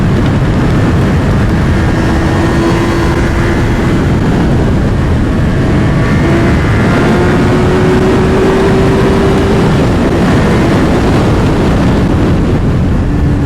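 Honda Hornet 1000 motorcycle engine under way, a loud steady roar with rising tonal whine and heavy wind buffeting throughout.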